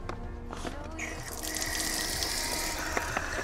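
Tap water runs into a folded-out collapsible water container of roughly four litres, a steady close gush with a faint rising fill tone that continues throughout.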